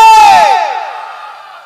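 A crowd at a religious gathering linked to Furfura Sharif shouts the Takbir chant in unison, one loud, short collective cry that rings out and fades with echo.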